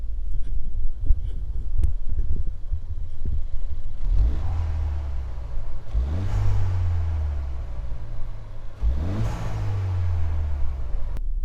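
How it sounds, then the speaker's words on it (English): A Ford Fiesta ST engine with a Stage 1 tune idles, then revs hard three times in separate bursts, each rising sharply and falling back to a low rumble, recorded close outside. "I'll do a couple of revs here with the camera outside so you can see it"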